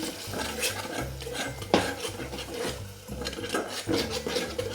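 Tomatoes frying with ground chili paste for sambar, stirred in a pan with steady scraping and rubbing strokes and soft sizzling, close and fairly quiet, with no talk.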